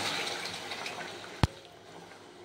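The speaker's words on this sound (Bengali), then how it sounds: "এবার আমি এটা জলটা দিয়ে দিচ্ছি" Hot water is poured into a simmering katla fish curry with fenugreek, making a close, continuous gushing splash that ends with a single sharp clunk before the sound eases off.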